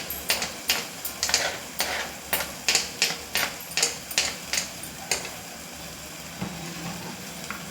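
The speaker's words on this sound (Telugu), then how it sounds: "వేసి బాగా మిక్స్ చేసుకుంటున్నానండి" Spoon stirring chopped onion, green chilli and coriander into bun dosa batter in a bowl, about a dozen quick, evenly spaced scraping strokes that then stop, leaving a quiet room.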